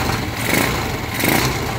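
A 200cc converted motorcycle engine with a five-speed transmission runs smoothly at a steady idle, a continuous close mechanical hum with no knocking and no talk over it.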